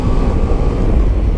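A Ducati DesertX motorcycle engine rumbles and vibrates under hard downshifting, a loud, steady low-pitched drone heard up close with no talking.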